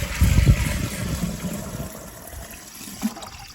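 Water poured into a dug post hole while building a rustic porch, an opening gush and splash that settles into a quieter trickle and gurgle, heard close with no talking.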